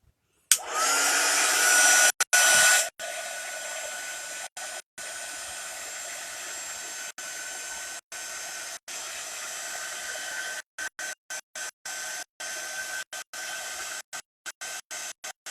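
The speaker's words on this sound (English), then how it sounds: "I'm going to go over it one more time with the heat tool so that it can dry" A heat tool blows a steady, loud, hair-dryer-like whoosh over embossing on a wooden sign, running continuously at close range with brief cutouts and no talk.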